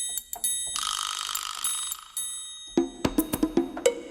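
Bells and percussion from the Ableton Percussion Core Kit, a sustained bright ringing tone followed by a quick run of sharp metallic bell hits, clear and close with no talk.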